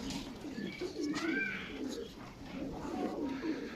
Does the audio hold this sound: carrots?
no